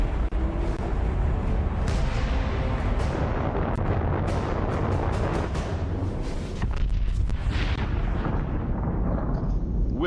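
A nuclear bomb launches and detonates in Fallout 76: a loud, sustained roar and deep rumbling blast fill the whole stretch, with crackling bursts and a faint announcer voice at moments.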